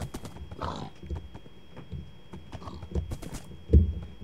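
A Minecraft horse on a prairie gives a breathy whinny and snorts amid clip-clopping hooves and dull thunks, fairly close, with no talking.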